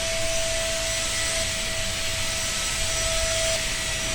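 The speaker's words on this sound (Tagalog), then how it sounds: "sinunod ko namang i-vacuum itong kama namin" A vacuum cleaner runs on a bed, its nozzle pulling dust from the mattress with a steady high-pitched whine and airy roar that stays constant throughout, alone without voices.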